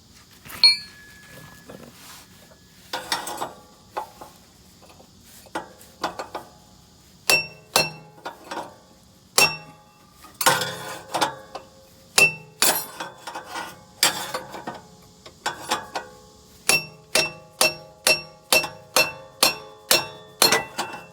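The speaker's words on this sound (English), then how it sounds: "This is the hammer I'm using" A hammer strikes a steel pickle fork wedged at the ball joint of a 2009 Toyota Highlander during passenger-side CV axle removal, giving sharp metallic clinks, sparse at first, then a fast, steady series of ringing blows.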